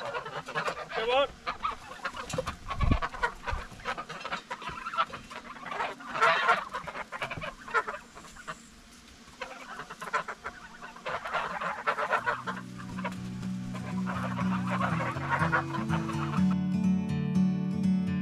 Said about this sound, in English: Release the geese!